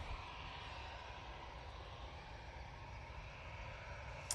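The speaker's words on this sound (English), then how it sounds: "Off to Naples we will go with this EasyJet." An EasyJet airliner bound for Naples departs with a steady, distant jet roar, a faint continuous rumble and hiss with no talking.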